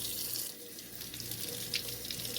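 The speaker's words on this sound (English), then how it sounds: "So we're just going to run it under some cold water." Cold tap water runs steadily over freshly churned butter in a home kitchen sink, a close, continuous hiss and splash with no talking.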